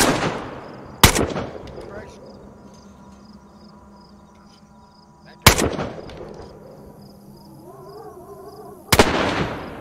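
Gunfire in a zombie video game, shots fired through a fence: three sharp, loud gunshots spaced several seconds apart, each with a ringing decay, over a low droning game background.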